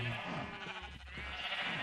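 A blocky Minecraft-style sheep lets out a short bleat in the game, quiet and brief, with a low murmur beneath it.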